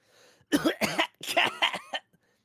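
A burst of harsh, violent coughing, several racking coughs in quick succession after a faint lead-in, loud and close.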